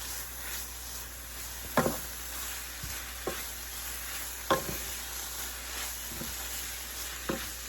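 Seasoned ground beef with mustard, cumin and beef seasoning sizzles softly in a pan as it is stirred, a quiet continuous fry broken by several sharp scraping clicks of the utensil, with no voices.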